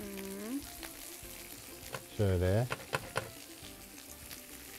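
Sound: fish frying in hot oil

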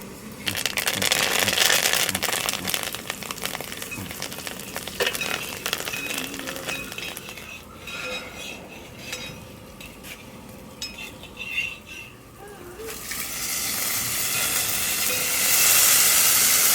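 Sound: curry leaves crackling and sizzling in hot oil

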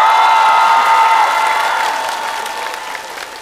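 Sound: audience applause welcoming a comedian

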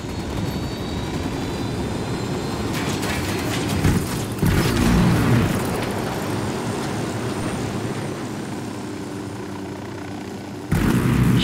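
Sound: helicopter approaching in video game

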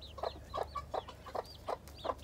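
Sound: hens clucking on a farm

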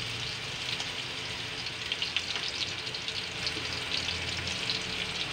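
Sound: ground meat frying while stirred for soup

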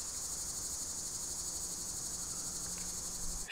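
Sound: crickets chirping outdoors

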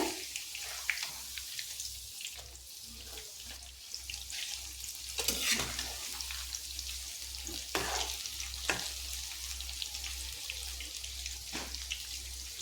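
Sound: mixed vegetable pakora frying in oil

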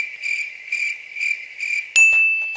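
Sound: cricket chirping sound effect

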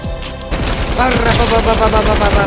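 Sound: voice imitating light machine gun fire

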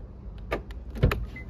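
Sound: Renault Arkana locking with keyless access

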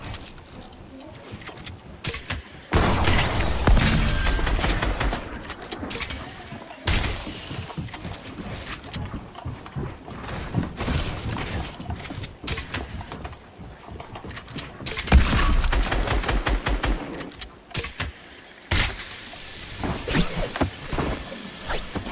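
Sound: shotgun firing in video game Fortnite

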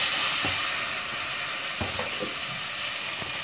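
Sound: tomato paste frying in a pan

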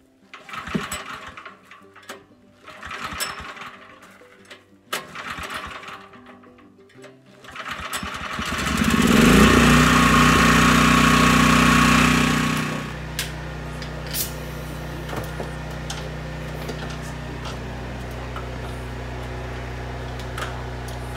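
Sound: farm generator being started and running

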